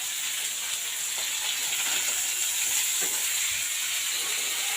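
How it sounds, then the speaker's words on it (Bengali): Pieces of rohu fish fry in hot oil with a dense, continuous hissing sizzle at steady loudness from start to end. A few faint knocks come through underneath. "টকের জন্য আমি মাছগুলো ভেজে নিচ্ছি"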